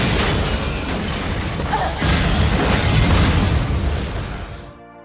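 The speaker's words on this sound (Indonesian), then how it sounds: "Alex datang tepat waktu untuk menolong Clear tepat sebelum mobilnya meledak." A car explodes in a horror thriller film, a loud, dense roaring blast that fills the scene for several seconds before fading away, with no talking.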